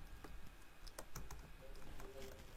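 Keys tapped on a computer keyboard in a series of quick, uneven clicks with short bursts and pauses, close and fairly quiet, with no talking.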